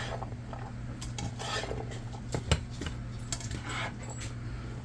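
Stirring a turkey and vegetable mixture in a skillet, light scraping and clinks of a utensil against the pan, close and quiet, with no talk.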